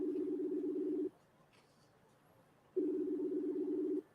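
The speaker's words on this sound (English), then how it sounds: "Can you guys hear the ringing?" Ringback tone on an outgoing phone call: two long steady buzzing rings, each about a second, separated by a quiet pause, fairly faint as if heard through a phone speaker.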